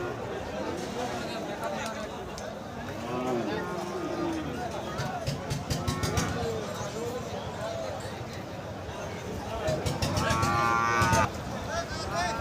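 Crossbred bulls and other cattle moo repeatedly at a busy rural livestock market in Khochabari, Thakurgaon, with loud, drawn-out calls rising over a constant hubbub of people talking nearby.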